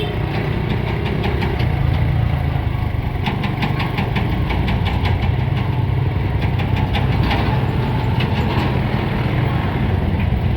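Tractor engine running steadily nearby with a rough, knocking mid-pitched chug that holds at a constant level, no talking.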